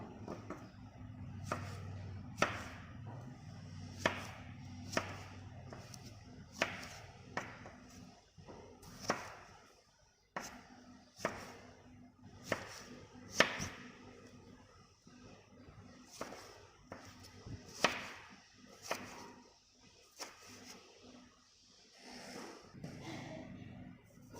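A knife chops garlic on a cutting board in sharp, irregular knocks, sometimes in quick bursts and sometimes spaced out, close by and quiet.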